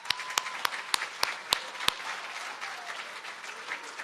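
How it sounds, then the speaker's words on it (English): Scattered claps ring out from a small audience at a Disney cabaret for the cast members, a handful of sharp, separate hand claps over a faint, thin patter. "Let's give them another round of applause."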